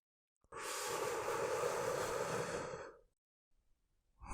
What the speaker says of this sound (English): let's go ahead and take a love breath on 3